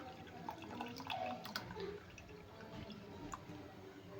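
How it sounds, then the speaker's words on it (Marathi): Tamarind water is poured into a pot of cooked dal, giving soft trickling, dripping and splashing liquid sounds close by, fairly quiet and without talk. "इथे आता चिंचेचं पाणी घालून घेते"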